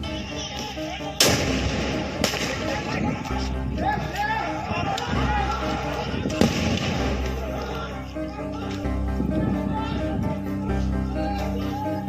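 Sharp bomb blasts burst out during a riot with police in Howrah, West Bengal, over a loud crowd din, with several heavy bangs spaced across the clip amid continuous shouting and commotion.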